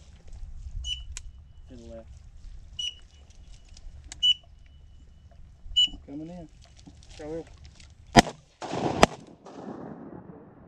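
Two sharp, loud shotgun blasts ring out near the end of a duck hunt on a wildlife management area, following quiet stretches of duck calls and quacking over light background noise.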